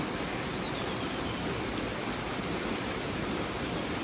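River water flows steadily in a stream in Nepal, a continuous broadband rush with no breaks, moderately loud and close, with no one speaking.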